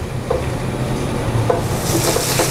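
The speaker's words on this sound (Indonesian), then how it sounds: "Kita tumis sampai dia harum." Grated coconut serundeng with lime leaves and bay leaves is sautéed in a granite-coated wok, giving a loud, steady frying hiss with low rumble and occasional soft stirring taps.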